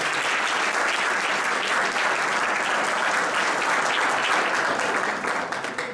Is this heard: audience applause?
yes